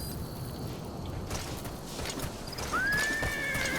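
A horse in the Metal Gear Solid V: The Phantom Pain video game gives a clear, rising whinny over a steady background, with scattered hoof clip-clops during the clip.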